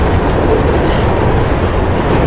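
Trains rumbling past in the video game Mirror's Edge, a loud, steady roar of rolling wagons with faint clickety-clack that fills the whole stretch, no voices.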